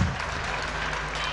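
Crowd applause at a Turkish oil wrestling semi-final in Elmalı, Antalya, heard from a distance as a steady wash of clapping, fairly faint, broadband and unbroken, with no talk on top.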